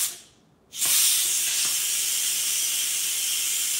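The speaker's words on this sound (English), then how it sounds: "I'm releasing the steam from the potatoes" Steam hissing loudly from freshly cooked potatoes as a lid is opened in a home kitchen, a sudden broad rush that starts after a brief quiet moment and keeps going steadily and close.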